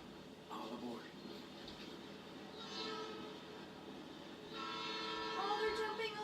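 A freight train passing in the video game Life is Strange 2, a rumbling rolling drone with drawn-out horn-like tones that swell toward the end, mixed under faint background sound.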